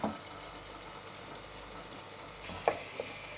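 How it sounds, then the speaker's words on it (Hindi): Liver (kaleji) frying in ghee in a pan for kaleji masala, a faint steady sizzle and hiss with a couple of brief spatula knocks near the end, no talking. "ये देखें हमारी कलेजी भुननी शुरू हो गई है।"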